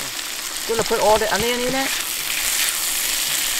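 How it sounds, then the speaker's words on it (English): Onions frying in a pan make a steady, close hiss and sizzle. A voice speaks briefly near the start, then the sizzle continues alone. "then I'm going to put all the onion."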